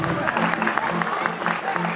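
An audience at a college farewell and award ceremony applauds, a steady wash of crowd clapping with some voices mixed in throughout.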